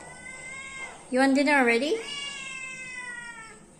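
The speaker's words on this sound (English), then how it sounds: "Will she meow if I open the door?" A cat gives a loud, drawn-out meow near the microphone, rising and falling in pitch, with someone talking briefly before it.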